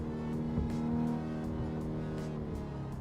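Race car engine from the Assetto Corsa PC racing game, a steady droning harmonic whine held at constant loudness throughout, with faint periodic ticks layered over it.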